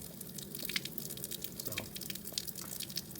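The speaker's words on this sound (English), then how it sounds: "water coming right out of that shaft, which is the exit from the water pump" Water trickling and dripping from the water pump exit shaft of a Tohatsu/Mercury 20 HP outboard motor being hose-flushed, a steady close splatter with scattered drips.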